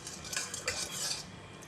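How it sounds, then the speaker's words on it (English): Utensil clinks and scraping against a pot as seafood soup with prawns, luffa gourd, oyster sauce and pepper seasoning is stirred, a few quick metallic taps close by with no talk. "Give it a mix until the seasoning dissolves."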